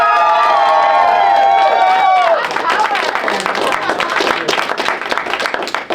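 At a comedy show, the audience lets out a long sustained cheer that gives way to dense, rapid applause and scattered whoops, loud and close, continuing steadily to the end.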